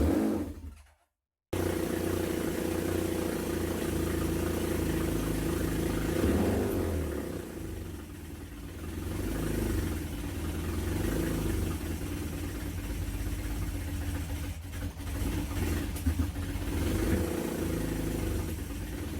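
A Honda CB750 motorcycle with leaky carburettors and two faulty spark plugs fires up after a brief silence, then settles into a steady, loud, uneven idle with a low rumbling throb that continues throughout.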